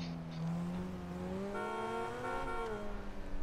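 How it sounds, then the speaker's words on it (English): Car horn honking in a driving video game, a plain stock horn, sounding as steady sustained tones over continuous engine noise, fairly close and moderately loud. "Oh, I got a normal horn on this car."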